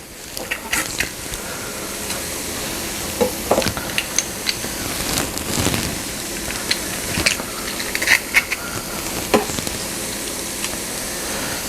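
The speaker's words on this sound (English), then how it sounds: "Once those onions have sauteed for a bit on their own, go ahead," Onions and garlic sauté in a pan for fettuccine alfredo, a close, steady sizzle and hiss with intermittent spoon scrapes and stirring taps, and no voices.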